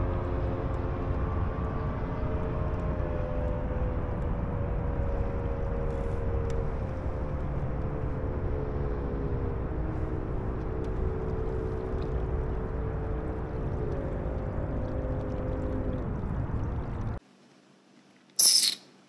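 A fire department rescue jet boat runs on a river, its steady engine drone holding loud and fairly close before cutting off abruptly near the end, with a brief clunk afterward.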